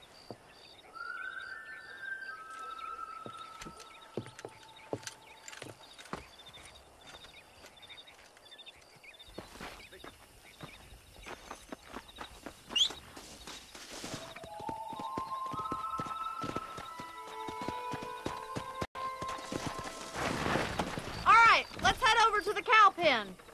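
Horse hooves clip-clop in a rhythmic ride through the Red Dead Redemption video game while herding cattle, with talk and music-like tones over the steady hoof beats.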